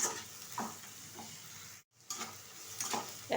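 Chicken with meat masala, chili powder and salt is stirred in a hot pan, soft scraping strokes over a steady close sizzle, with a brief dropout midway and no talking.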